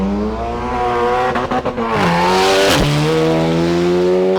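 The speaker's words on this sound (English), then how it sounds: "right behind me two cars are lined up to give it the beans down the straight" Drag racing cars at a national championship meet launch down the quarter-mile strip, engines roaring loud and close as revs climb and shift in sweeping pitch, with a sharp burst midway and no talk.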